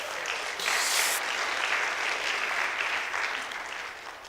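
Sustained applause from an indoor audience at a teen event fills the space, with dense clapping that swells early, holds, then gradually thins toward the end.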